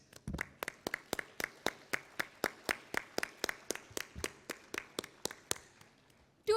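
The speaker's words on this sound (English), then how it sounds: "let's give ourselves a huge round of applause for being at the new era of chartered accountants" At a chartered accountants' motivational session, hands clap in a slow, even beat: about twenty distinct, sharp claps spaced evenly, fairly quiet, with little crowd noise around them and a short loud burst at the very end.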